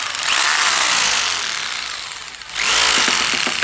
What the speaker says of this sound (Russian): Так, ударное сверление.